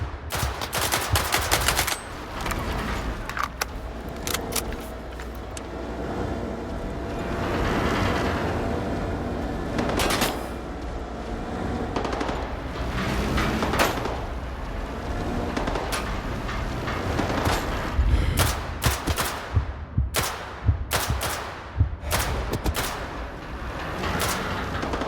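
Gunfire in Stalker 2, loud bursts of shots and sharp single cracks in repeated volleys over a rumbling background, some close and some more distant.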